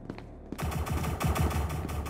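Rapid automatic gunfire erupts in the game SCP: Secret Laboratory after a brief quiet moment, a loud, close, sustained burst of shots.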